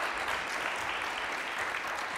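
A full audience claps steadily to welcome speakers onto a stage at an evening interview event, an even wash of applause throughout.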